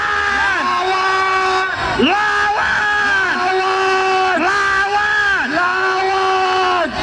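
A street protest crowd outside an election commission office shouts and cheers together in loud, sustained unison, with a lead voice rising over the mass of chanting voices.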